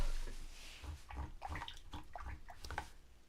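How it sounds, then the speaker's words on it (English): A paintbrush is rinsed in a water cup during a mixed media painting session, giving a series of soft, close splashy swishes and drips with a quiet low knocking underneath. "Rinse my brush out."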